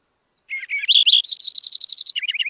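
Lincoln's sparrow song: a bright, fast series of clear whistled trills, starting with a few buzzy notes, rising into a rapid rolling run and ending in a quicker, lower jumble, loud and close with no talking.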